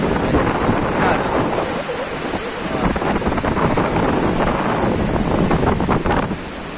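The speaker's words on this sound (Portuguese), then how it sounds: "As ondas tá meio forte hoje" Strong ocean waves roll and break at Redinha beach near a breakwater, a loud continuous surf roar mixed with heavy wind buffeting the microphone throughout.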